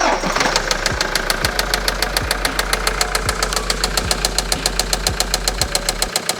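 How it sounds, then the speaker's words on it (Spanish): A 2015 Toyota Hilux engine starts and runs unevenly with a fault, a steady train of sharp periodic knocks beating through the loud idle for the whole stretch. "vamos a proceder al encendido del motor para escuchar el síntoma que tiene"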